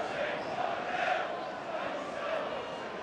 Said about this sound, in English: You hear the crowd behind the goal just saying shoot.